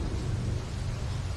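A short stretch of steady, dense rain with a deep rumble of thunder beneath it, a constant wash with no breaks, heard as a sound effect in a Bengali horror audio story.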